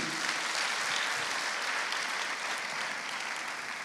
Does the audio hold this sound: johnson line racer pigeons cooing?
no